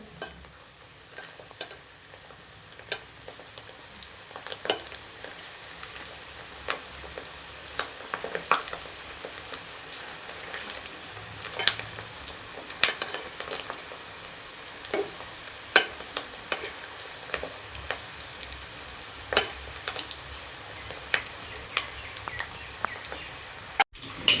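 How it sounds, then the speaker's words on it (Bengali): Fish roe fritters fry slowly in a pan over low heat, giving a soft continuous sizzle broken by frequent small spatters and stirring clicks, close and fairly quiet with no talking. "আস্তে আস্তে ভেজে নিতে হবে ভালো করে, না হলে ভিতরে কাঁচা থেকে যাবে।"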